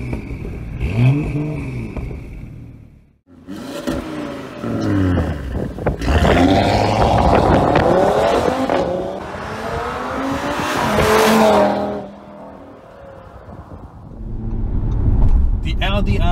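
Engines of a 2018 Audi RS3 sedan and a BMW M2 coupe revving in turn, loud rising and falling roars with sharp pitch sweeps and brief gaps between blips, close and alone.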